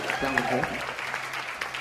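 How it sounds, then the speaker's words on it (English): Crowd applause at a live presentation of the Soca Divas, a steady wash of clapping running beneath a prominent voice talking over it throughout. "Give them a round of applause, please"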